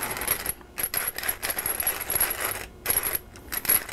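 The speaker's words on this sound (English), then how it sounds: "I want to grate pepper onto this." A hand pepper mill grinds black pepper over a dish of Bisceglie pasta before it bakes, giving repeated bursts of dry, gritty clicking and crunching with brief pauses between twists, close and fairly loud.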